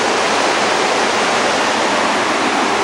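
A deep, narrow mountain creek rushes through a valley in a loud, unbroken roar of churning water, close by with no voices.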